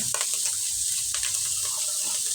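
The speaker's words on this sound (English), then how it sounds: "Now you're going to want to add your water." Water pours steadily into a pot while sloppy joes are cooked with tomato paste, a continuous close splashing trickle with no talking.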